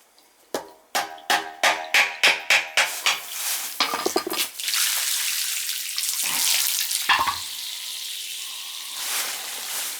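Water drains from a leaking house boiler that has lost its domestic hot water, starting as a quick run of rhythmic gurgling spurts and then settling into a steady, loud rushing flow nearby.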